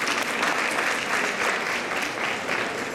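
An audience claps at a Latvian book festival, dense and continuous applause from a crowd filling the room, steady in level for the whole stretch with no talk.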